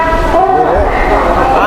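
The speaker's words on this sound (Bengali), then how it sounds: "হাওড়া স্টেশন থেকে চলে যাচ্ছে আমাদের ট্রেন পাঁশকুড়ার উদ্দেশ্যে" A train pulls out of Howrah station bound for Panskura, its loud, steady rumble and wheel noise running throughout with a horn-like tonal whine rising near the end, while people talk over it.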